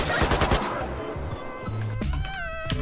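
A rapid burst of automatic AK rifle fire in a video game crackles at the start, then fades into sustained tonal game sounds and other effects.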